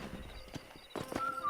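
Horse hooves clip-clopping in Red Dead Redemption, a few close, moderately quiet steps alongside faint ambient game sound.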